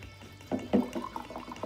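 Wine glugs from a bottle into a glass at a tasting, a quiet, short run of gurgling pours with a couple of louder splashes.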